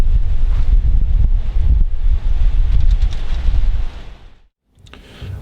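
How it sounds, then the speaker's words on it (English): Strong wind gusts across an open allotment buffet the microphone in a loud, continuous roar, dropping to a brief lull near the end before picking up again. "The wind is starting to pick up. In fact, it's getting worse"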